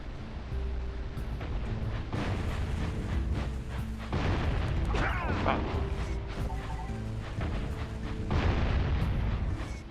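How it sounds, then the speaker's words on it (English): In a video game, a cannon fires fused sacks of explosive, giving repeated booms and crashing blasts over a continuous rumbling, noisy background. "Not sure why that cannon's firing sacks of explosive with a fuse."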